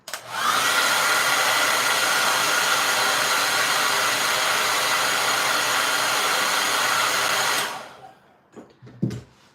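A hair dryer blows on freshly painted acrylic, a loud, steady rushing whir running for about eight seconds before it clicks off, followed by a few faint handling noises.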